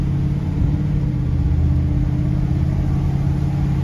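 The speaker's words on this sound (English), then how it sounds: "let's take this Mercury out for a drive" A 1973 Mercury Marquis Brougham cruises along with a low, steady engine rumble and road hum heard from inside the cabin, smooth and even throughout.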